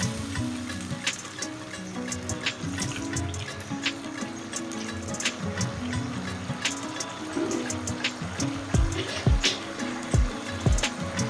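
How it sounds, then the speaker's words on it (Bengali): Water is poured into a pan of spiced paneer masala curry, mixing with steady sizzling and bubbling from the hot masala, with sporadic clinks and splashes close by. "এখন আমি পরিমাণ মতো জল দিয়ে দিচ্ছি"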